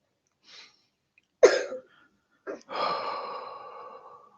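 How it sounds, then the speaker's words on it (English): Someone nearby coughs a few times, separated by pauses, with a short breath first and a longer, raspy cough trailing off at the end. "You keep coughing."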